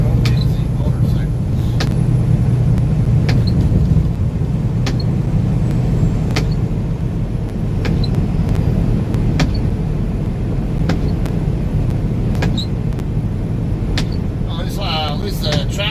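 Highway traffic rumbles steadily around a moving truck, a loud continuous road and engine roar with faint passing-vehicle swells, and no voices.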